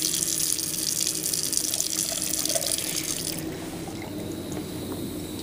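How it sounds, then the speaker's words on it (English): Tap water runs steadily as a lab test rod is rinsed under the faucet, a continuous close hiss and splash that eases slightly toward the end. "Rinse one more time."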